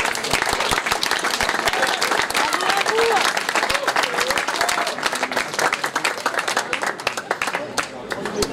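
Outdoor crowd applauding site occupants and activists at a gathering in Saint-Pierre-de-Colombier, dense lively clapping with scattered voices and a few cheers throughout.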